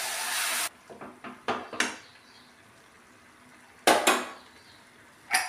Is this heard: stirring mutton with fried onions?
yes